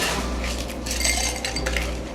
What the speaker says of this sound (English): We're gonna start off with our mixing glass and add some ice.